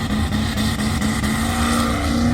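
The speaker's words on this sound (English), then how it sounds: "That'll bring up the turbocharged Ford wagon." A turbocharged Ford wagon roars continuously at a drag strip, its engine loud and steady with a rising drone that builds as it launches.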